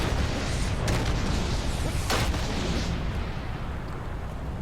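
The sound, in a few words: gunshot fired by an enemy in the video game Shadow of the Colossus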